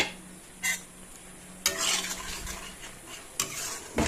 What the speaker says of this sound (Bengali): দেখো মশলা বসিয়ে দিয়েছি।